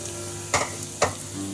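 Whole garam masala and a bay leaf drop into hot oil and give two sharp crackling sizzles over a quiet steady hiss. No one is talking.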